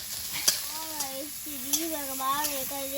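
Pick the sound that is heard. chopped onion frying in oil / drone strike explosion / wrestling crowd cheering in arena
chopped onion frying in oil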